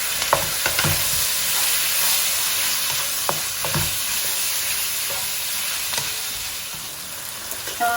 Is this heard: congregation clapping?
no